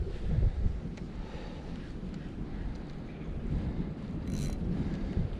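Wind buffets the microphone beside open water during pike fishing, a steady low rumble with gusts and faint lapping in the background.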